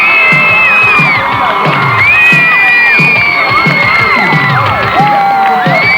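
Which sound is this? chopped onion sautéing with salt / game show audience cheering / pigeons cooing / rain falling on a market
game show audience cheering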